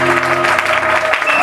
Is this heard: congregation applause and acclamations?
yes